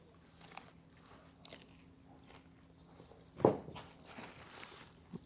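Someone bites into hot chicken wings and chews, soft close mouth sounds with one sharper crunchy bite midway, quiet and sparse.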